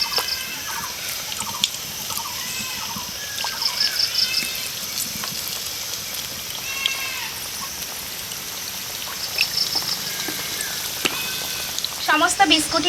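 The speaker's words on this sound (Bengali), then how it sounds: "বাকি বিস্কুটগুলো একই রকমভাবে ভেজে নেব" Wheat-flour biscuits deep-frying in oil give a faint, steady sizzle, with soft scattered clinks and a short clatter near the end.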